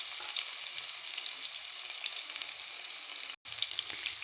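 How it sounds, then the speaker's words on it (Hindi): Onion frying in hot ghee gives off a dense, continuous sizzle and crackle close by, broken once by a brief dropout near the end, with no voices. "घी को मैंने गरम कर लिया है। अब मैं इसमें ये प्याज डालूंगी।"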